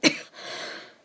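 One sharp cough or throat clear, brought on by eating food with fine bits in it, close and fairly faint, followed by a brief breathy tail.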